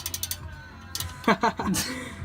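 A socket wrench clicks through a quick run of ratcheting strokes on exhaust bolts of a Nissan 350Z, followed by heavier metallic clanks and rattles from the work, all close.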